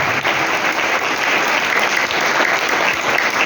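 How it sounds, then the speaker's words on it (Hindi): Dense, steady applause fills a church service as a congregation claps for Jesus Christ, a loud continuous wash of many hands without pause. "तालियां यीशु मसीह के लिए।"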